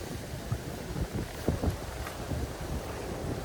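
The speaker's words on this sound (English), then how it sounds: "Extremely windy." Wind gusts buffet the microphone in low, uneven rumbles over a faint, steady outdoor hiss at a lakeside fishing spot, Heart Lake in Brampton.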